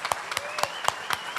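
Church audience clapping for first-time visitors: a brief, rhythmic patter of hand claps in a steady beat over a faint sustained tone, with no clear speech.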